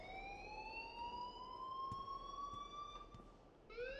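A siren-like alarm blares in the video game Life Is Strange, a loud continuous electronic whine that rises steadily in pitch, cuts out and then starts its climb again near the end.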